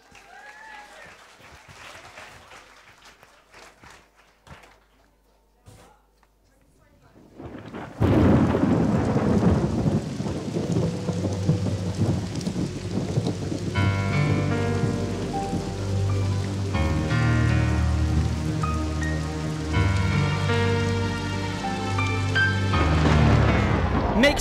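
Audience at a UK open mic regional final in Manchester applauds and cheers loudly for a performer, a dense sustained roar of clapping after a quieter start, with music starting up beneath it.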